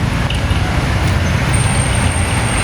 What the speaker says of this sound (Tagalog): medyo okay naman ang trapiko dito sa highway guys